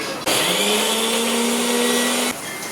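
A mixer grinder whirring through soaked tomatoes with turmeric, a loud steady motor drone with a rising whine that starts abruptly, runs about two seconds, then cuts off; no talking.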